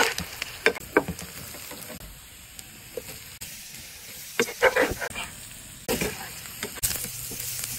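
Shrimp sizzling in a pan as turmeric, chili powder and salt are stirred in, a steady hiss with sharp scraping stirs and clinks of the spoon recurring every second or so, close and fairly quiet.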